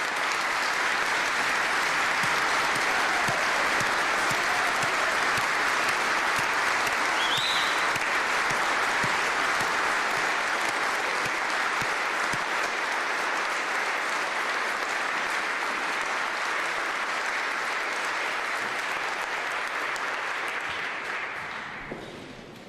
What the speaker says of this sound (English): Please give these educators and educators all across Kansas a huge round of grateful applause.